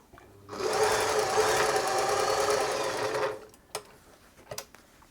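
A Singer 631G sewing machine runs steadily for about three seconds, a close, fast, even whirring chatter of stitching, then stops, followed by a few small clicks and taps.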